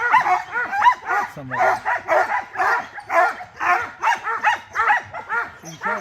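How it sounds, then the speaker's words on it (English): Sled dogs on an Alaskan dog sledding excursion near Juneau bark continuously and loudly at close range, with yips and whimpers among the barks. A person speaks briefly. "We have dogs behind us to switch out, I guess."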